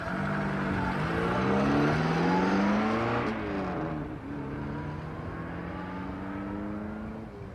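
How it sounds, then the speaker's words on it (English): A car engine revs up hard as it pulls away in first gear on a Scottish Highlands road, a loud, sustained roar that rises in pitch, dips at a gear change, then climbs again. "the engine roars into action as I try and pull away"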